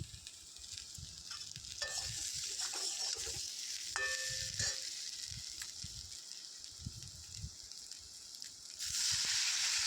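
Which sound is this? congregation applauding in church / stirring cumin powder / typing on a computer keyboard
stirring cumin powder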